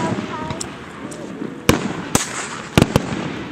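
Fireworks exploding at an outdoor evening display in Huntington, with several sharp, loud bangs spaced irregularly over distant crackle, while people chat nearby.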